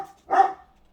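Colin the dog gives a single short, sharp bark, close and fairly loud, with quiet before and after.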